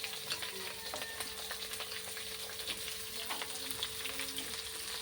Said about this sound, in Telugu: ఇప్పుడు వీటన్నింటినీ కలుపుతూ మంచిగా ఆనియన్ రంగు మారేంత వరకు ఫ్రై చేసుకోవాలి.